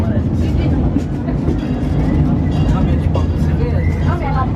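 Steady low rumble and rattle of a moving train at the PortAventura World theme park, continuous and close, with faint voices mixed in.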